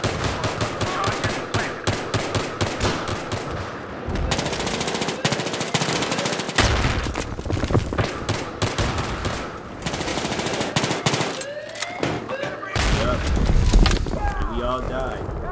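Battlefield 3 on Xbox One: rapid automatic gunfire rattles in repeated bursts and longer sprays, close and loud, with short gaps and scattered single shots, while a player talks over it.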